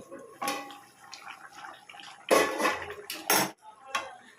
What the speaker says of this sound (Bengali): ঢাকনাটা আমি নামিয়ে নিচ্ছি